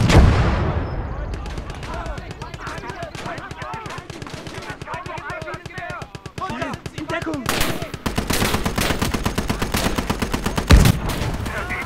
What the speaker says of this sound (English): Ooh, that was a gun.